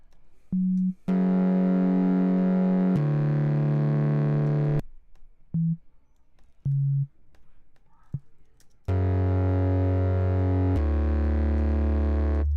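Sustained synth bass tones from a basic sine wave in FL Studio play in held notes, with short blips and gaps between them, all loud and steady in pitch.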